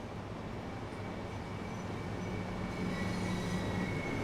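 A class 377 electric train in the Train Sim World game rolls along with a steady, moderate rumble and faint high tonal whine, continuous and unbroken throughout with no talking.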